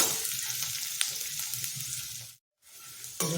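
Onion and grated carrot frying in a pan for carrot pulao, giving a steady, close hiss and sizzle with stirring. The sound breaks off into a brief silence near the end, then resumes. There is no talk.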